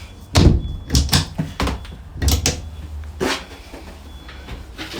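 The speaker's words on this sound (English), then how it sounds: "the door opens, closes on this latch to give you a pretty big shower stall" A shower stall door on a 2016 Pursuit Offshore OS355 express cruiser boat swings and clicks shut on a latch, a few distinct knocks and thuds close by with short pauses between them.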